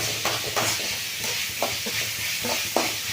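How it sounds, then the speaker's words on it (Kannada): Onions fry in a pan with a steady close sizzle, broken by several brief scraping stirs of a utensil at irregular moments. "ಇದೆಲ್ಲ ಚೆಂದಾಗಿ ಫ್ರೈ ಆಗಲಿ ಈಗ ಈರುಳ್ಳಿ ಎಲ್ಲ ಚಂದಕ್ಕೆ ಫ್ರೈ ಆಗಿದೆ"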